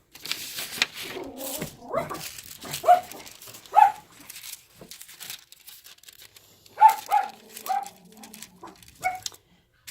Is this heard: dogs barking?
yes